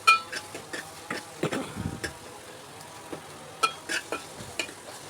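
Tomatoes and onions frying in a pan for egg curry, stirred with a spatula: a soft, steady sizzle broken by irregular scraping and clinking strokes, close and fairly quiet, with no talking.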